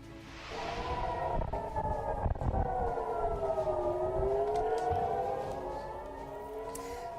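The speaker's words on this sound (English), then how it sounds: "Sirens blared across Israel as the skies were lit up by the country's air defense system." Civil defense air raid sirens sound across Israel, a loud sustained wailing tone that rises and falls in pitch for several seconds, then fades slightly toward the end with no talking.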